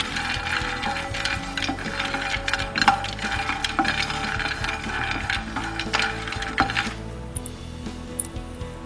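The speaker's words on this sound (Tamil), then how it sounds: "நெக்ஸ்ட்டு இந்த நெடக்கடலை பருப்பு போடுறேன். இது நல்லா கொஞ்சம் பொன்னிறம் ஆகிற வரைக்கும் வதக்கிக்கலாம்." Chana dal roasting in a pan, a busy rattling sizzle with dry clicking and scraping as the lentils are stirred, close and steady before dropping to near quiet near the end; no talk.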